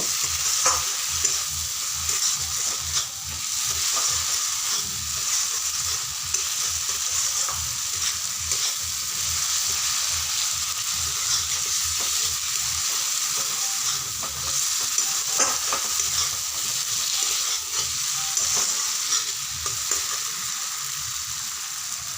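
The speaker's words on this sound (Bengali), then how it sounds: "ডিম দেওয়ার পরে আমি আরেকটু কষাবো" Egg curry masala with boiled eggs sizzles loudly in a pan as it is stir-fried, with a continuous hiss broken by scraping strokes of a spatula, heard close and without voices.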